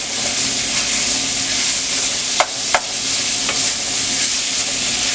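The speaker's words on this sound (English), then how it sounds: "We just take this meat and just like break it up a little bit more." Ground meat for baked ziti sizzles loudly in a pan while being broken up and stirred, a dense steady frying hiss broken by a couple of sharp scraping knocks of the utensil.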